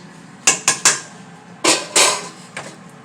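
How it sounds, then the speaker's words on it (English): Clanks and metallic knocks from a pot as collard greens are added to turkey broth with salt and vinegar, a few sharp hits in two clusters, close and fairly loud with no talk. "So first thing I'm going to do now is just go ahead and get my greens in here"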